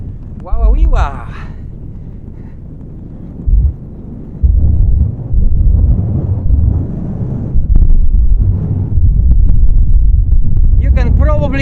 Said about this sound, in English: You can probably hear the wind. The gusts every now and then are like really big.